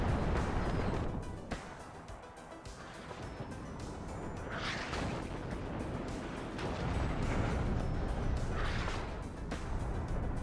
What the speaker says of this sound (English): Artillery fires,